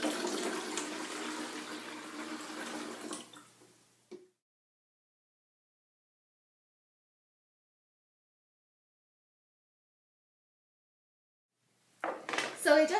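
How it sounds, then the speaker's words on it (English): Water is dumped into a lemonade pitcher to rinse out the leftover flavored lemonade, a loud rushing splash lasting about four seconds before cutting to silence, with a brief burst of noise at the very end. "Now that this is filled with water, we will dump it in the pitcher as it will rinse out all the leftover flavored lemonade"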